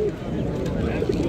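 Ornamental and carrier pigeons coo softly at a bird market, with murmuring voices and general crowd noise around them.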